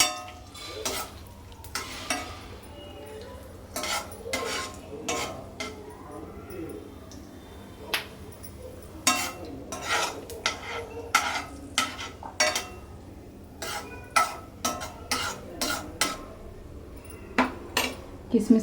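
Raisins frying slowly over a low flame for double ka meetha, with a soft sizzle beneath repeated sharp scrapes and clinks of a utensil against the pan, close and steady.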